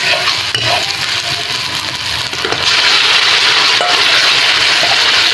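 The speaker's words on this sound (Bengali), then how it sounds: "এবার আমি কচু শাকটা ঢেলে দেবো" Taro greens tipped into hot, browned spices in a frying pan, giving a loud, steady sizzle and crackle with some stirring scrapes throughout.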